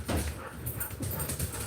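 A dog whimpers and gives short barks, close by, in a noisy outdoor setting with rustling and scuffling around it.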